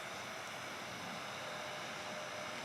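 A heat gun blows hot air onto ceramic window tint film on a Mustang, a faint, steady broadband hiss with no breaks, heard close and alone.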